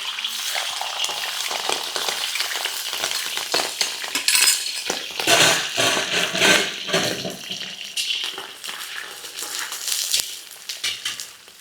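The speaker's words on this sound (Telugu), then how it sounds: "ఇప్పుడు ఆయిల్ వేడైంది, లివర్ వేసుకుందామండి. హాఫ్ కేజీ లివర్ వేస్తున్నాను." Half a kilo of mutton liver frying in hot oil, a steady loud sizzle and crackle with irregular bursts and spatters throughout, no talking.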